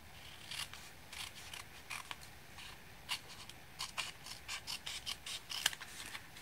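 Scissors cut lines in card for a treat box, a quiet close run of short snipping crunches that quicken toward the end, no talking.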